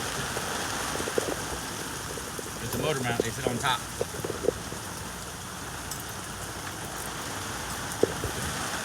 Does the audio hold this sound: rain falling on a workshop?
yes